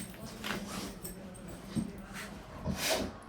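A hungry dog snorts and whimpers up close in short, soft bursts, a few sharper breathy snorts standing out, with faint voices in the background.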